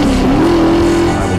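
A car engine hums steadily at close range, its pitch rising slightly then holding, with a continuous roaring road noise throughout.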